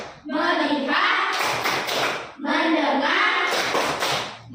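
A classroom of pupils doing a rhythmic 'tepuk fokus' routine: sung group chanting broken by quick bursts of claps in unison, repeating twice, close and fairly loud.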